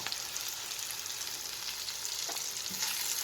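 Onion and garlic fry gently in a pan as they are stirred, a steady soft sizzle with occasional scraping taps of the spoon, close and quiet with no talking.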